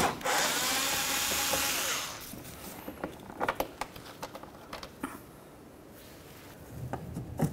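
A 5.5mm socket removes the single mounting bolt of a 2006-2012 Ford Fusion side marker light: a steady whirring run of a powered driver, then a string of sharp close clicks and ratcheting taps.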